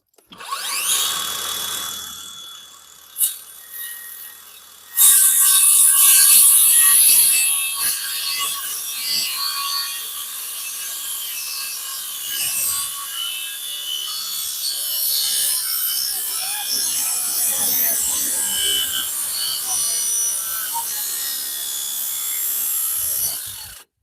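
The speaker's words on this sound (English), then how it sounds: "Don't you see I'm working with a power tool?" A power tool cuts and works wood for steps on a small cabin, with an abrupt loud rasping burst near five seconds followed by a sustained, fluctuating grinding and sanding drone, close by.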